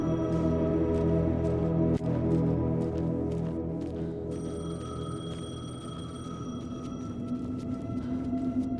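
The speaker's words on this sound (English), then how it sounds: "The payphone was ringing." A payphone rings in the Alan Wake 2 video game, a repeating electronic trill with tonal bell-like layers over a low ambient drone, moderately loud and steady, with no talking.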